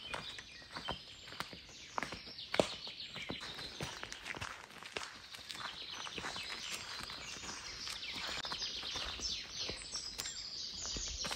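Dawn birdsong in a Latvian village in June, scattered chirps and calls at moderate distance over quiet outdoor ambience with occasional nearby footstep-like thumps, faint overall.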